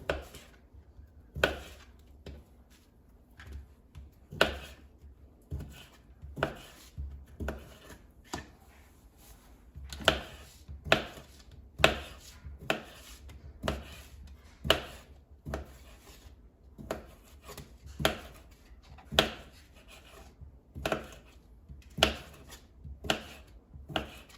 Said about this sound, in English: So I'm going to slice it into pieces.